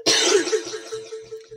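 A single harsh cough bursts out close and loud, then trails off into a few rasping breaths.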